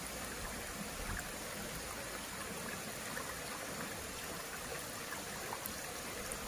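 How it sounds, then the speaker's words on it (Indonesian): Clear spring water gushing strongly from the ground where a landslide struck, heard from a distance as a steady, even rushing wash with no pauses and no voices. "sumber mata airnya dari dalam tanah ini sangat besar sekali dan jernih airnya"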